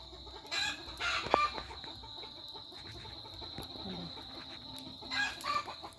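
Chickens cluck and a rooster crows on a farm on a cold winter morning, scattered calls rising over a quiet background, with one louder crow early on and more clucking near the end.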